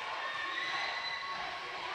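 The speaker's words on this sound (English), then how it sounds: "as you hear the crowd across the way from Carbon Hill" Crowd noise from a high school basketball game between Curry and Carbon Hill at the final buzzer, a steady, distant roar of cheering voices filling the gym, continuous and fairly even throughout.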